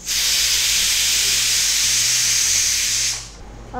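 Pressure cooker whistle venting steam in a kitchen, a loud, close, continuous hiss lasting about three seconds before cutting off sharply.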